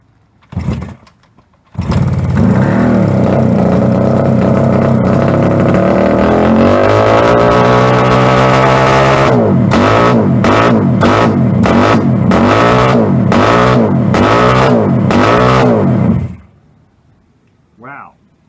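A 1973 Kawasaki H1D motorcycle's engine roars loudly for about fifteen seconds after a brief sputtering start, holding high revs and then pulsing in repeated sharp throttle blips before cutting off, with voices at the very start and end.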